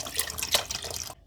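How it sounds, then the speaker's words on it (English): Chicken stock pours into a pot for noodle soup, a short close splashing and gurgling of liquid that stops abruptly near the end. "The next step is to add in all of the chicken stock."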